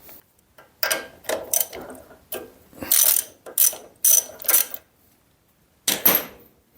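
A socket ratchet turns out a spark plug on a Briggs and Stratton engine in short, loud clicking bursts separated by brief pauses, close to the microphone and with no voices.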